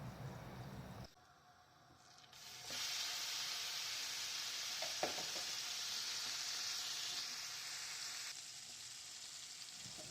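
Chicken pieces frying in a little oil and butter, a steady close sizzle that drops away briefly then returns strong and even, with a few faint clinks.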